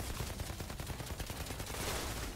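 Rapid, sustained automatic gunfire from the Outriders video game, a dense unbroken stream of shots crackling loudly and close for the whole stretch with no talking.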